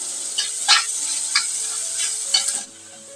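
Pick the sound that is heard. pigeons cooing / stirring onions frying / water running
stirring onions frying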